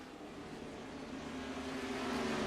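Race cars lapping a virtual Richmond oval in a racing video game, a steady, dense engine drone holding at one loud level and swelling slightly toward the end, with no voices over it.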